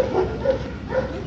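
A dog at an animal shelter gives a few short, close yips and whimpering barks in quick succession.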